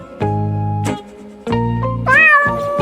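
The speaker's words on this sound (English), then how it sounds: "cat" A cat meows three times in close succession, clear drawn-out calls with the last one rising and wavering, loud and near with no talking.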